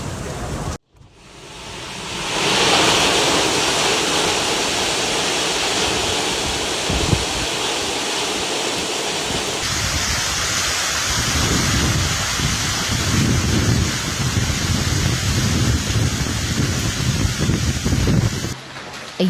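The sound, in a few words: thunderstorm with heavy rain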